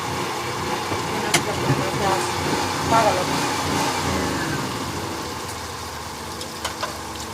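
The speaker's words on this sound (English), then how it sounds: "So our generator ran out of gas." An RV generator's mid-pitched engine runs, then falters and surges as it runs out of gas, heard steadily at moderate distance with occasional clicks and light background noise.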